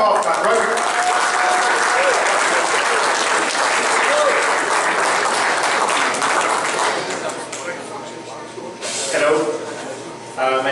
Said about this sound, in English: rugby clap, not golf clap, rugby clap